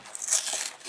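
A Lotte Choco Pie package is torn open, making a brief, close crinkling plastic tear that lasts about a second, with no voices.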